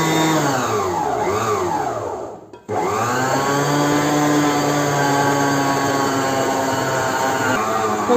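Stand mixer kneading raisin bread dough with milk, a steady, close motor whir that briefly dips and cuts out, then resumes at an even pitch.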